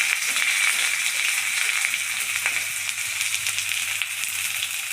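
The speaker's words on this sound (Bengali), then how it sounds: "এবার পেঁয়াজ কটা ঢেলে দিচ্ছি।" Chopped onions frying in hot oil for a tundri (gourd) dish, a steady dense sizzle that stays loud and even throughout, with a low hum underneath and no talking.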